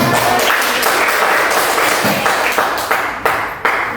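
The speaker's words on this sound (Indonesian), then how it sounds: "tepuk tangan dulu untuk semua" A classroom of students breaks into sustained applause, many hands clapping in a steady, close wash that slowly tapers into a few scattered, sharper final claps.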